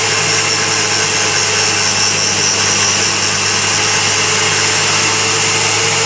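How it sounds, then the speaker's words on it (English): A grinding wheel dresses the face of an engine valve while restoring a Fairbanks 3HP Z engine, giving a steady, loud, continuous grinding whir with no breaks and no talking. "I like to keep the grinding wheel moving back and forth across the face of the valve."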